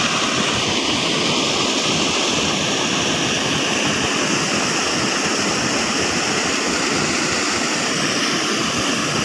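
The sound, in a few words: rushing water, like a waterfall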